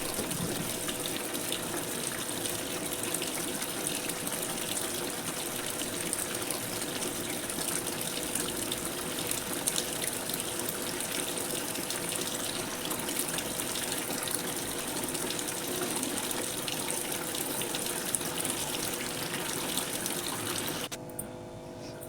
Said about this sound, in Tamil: இப்போ வேறு டேப் புது தண்ணி திறந்து விட்ருக்கோம் தண்ணி நல்லா கொஞ்சம் நிறையட்டும்